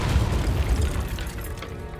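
A Confringo fire spell explodes in the video game Hogwarts Legacy, a deep booming blast that hits hard at once and rumbles down over about two seconds.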